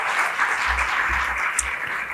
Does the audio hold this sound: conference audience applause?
yes